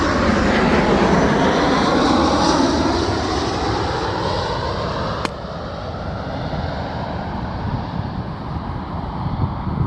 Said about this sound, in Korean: 비행기